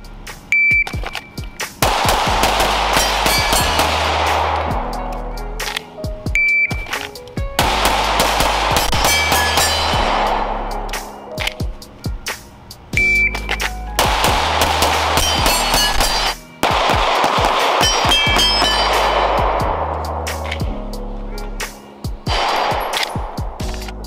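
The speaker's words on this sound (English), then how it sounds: "There's 8 shots in a 304, just for the record." Handgun shots fired on a range: several loud, sharp reports in quick clusters with ringing tails, separated by brief gaps, close and unaccompanied by talk.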